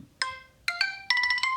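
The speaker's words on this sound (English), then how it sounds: "I'm so sorry. That's my phone." An old phone's ringtone plays three bright chiming bursts in quick succession, loud and near in an otherwise quiet room.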